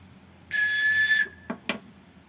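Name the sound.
handmade replica prehispanic bird-sound whistle being blown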